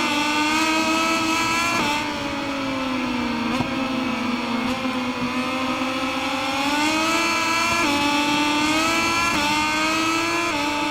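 Moto2 KTM motorcycle engines in MotoGP 21 race loud and close, a continuous high whine climbing and dropping through gear changes, with brief dips between shifts.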